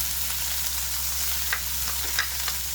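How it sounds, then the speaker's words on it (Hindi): Chopped onion frying in hot oil in a pan gives a steady, loud, close sizzle with a few soft clicks of stirring, and nobody speaks. "ऑयल के गर्म होते ही हम इस तरह आधी प्याज हम इस तरह से इसमें डाल देंगे"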